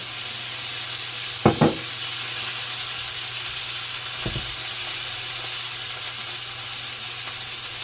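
A thick sirloin steak sizzles in oil in a hot pan with a loud, steady hiss throughout, broken by a couple of short clunks from the pan or utensil.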